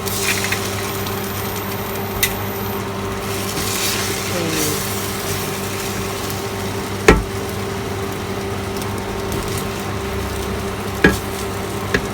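Instant noodles with vegetables and egg stir-frying in a pan, steady loud sizzle throughout with a few sharp utensil knocks against the pan.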